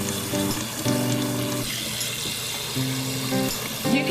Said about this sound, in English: We're going to cover this good with water.